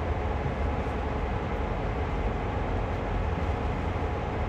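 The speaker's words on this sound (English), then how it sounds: "I love the sound of these trains." A train runs in the Train Sim World video game with its windows open, giving a steady, loud, continuous rumble and rolling roar with no talking over it.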